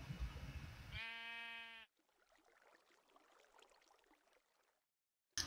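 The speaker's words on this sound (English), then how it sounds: "why the sheep?" A single sheep bleat from the video game Minecraft, a clear wavering call of about a second. Quieter ambient game noise follows it.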